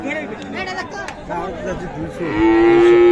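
A Friesian cow with her calf at Raniganj cattle market lets out one loud, long, sustained moo near the end, after a stretch of crowd chatter and people talking nearby.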